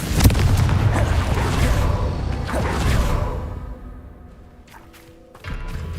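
A Confringo fire-blast spell going off in Hogwarts Legacy: a loud, rumbling whoosh and boom that rolls on for a couple of seconds, fades to a low hiss, then swells again with another burst near the end.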